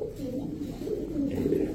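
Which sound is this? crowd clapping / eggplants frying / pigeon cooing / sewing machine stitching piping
pigeon cooing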